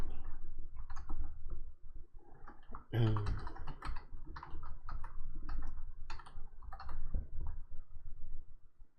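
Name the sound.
typing on computer keyboard filling out email password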